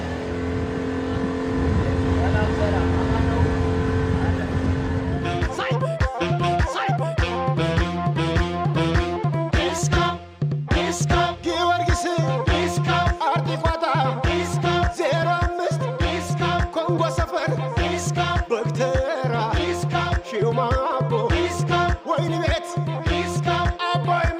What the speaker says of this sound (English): So guys, this is the boat.